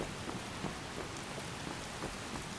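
Rain falling outdoors in the video game Skyrim, a dense, even hiss of drops on surfaces with faint low rumbles, soft and continuous, no voices.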